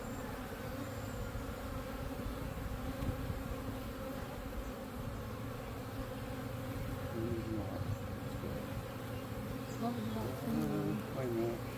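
Bees from a swarm buzz steadily in a hive box, a dense, continuous hum that holds at moderate loudness from start to end.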